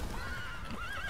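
A horse in The Witcher 3 video game neighs loudly and alone, a rising whinny that wavers and trails off over a steady low game background.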